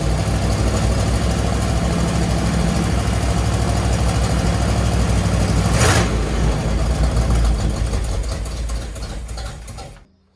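A 1963 Chevy Impala V8 with a carburetor and fuel delivery problems idles loudly and close, a steady rough rumble that holds for most of the stretch before dying away at the end.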